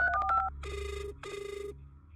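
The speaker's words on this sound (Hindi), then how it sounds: "वो अपना फोन निकालकर आयशा को कॉल करता है।" A phone ringing during an outgoing call, with a short burst of electronic tones followed by two long, loud ringback tones, close and clear with no talk.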